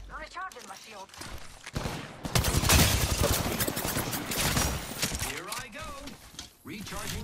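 Rapid gunfire bursts from an Apex Legends ranked match, dense and loud through the middle, with players talking over and between the shots.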